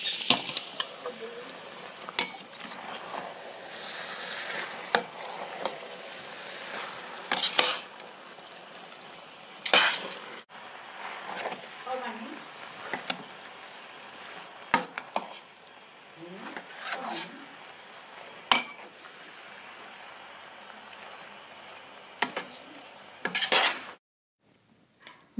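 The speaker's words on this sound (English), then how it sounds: "Now we add our cooked rice and stir well." Cooked rice is stirred into mutton biryani in a pot, with repeated metal spoon scrapes and clanks over a faint background sizzle, close and intermittent, ending in a brief pause.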